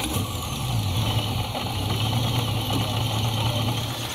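A 1930s Cord 812 SC classic with a 4.7-litre eight-cylinder engine and a Schwitzer Cummins centrifugal supercharger runs steadily and loudly. The engine rumbles under a continuous high supercharger whine.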